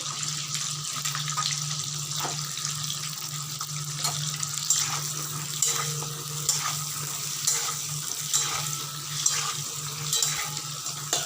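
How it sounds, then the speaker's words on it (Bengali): Pointed gourd pieces fry in hot oil in a wok for a chicken-stuffed gourd dish, giving a steady crackling sizzle over a low constant hum, with no talking. "আমরা একটা একটা করে পটলগুলো এবার ভাজার জন্য দিয়ে দিচ্ছি কড়াতে ভালো করে এবার ভেজে নেওয়া হবে"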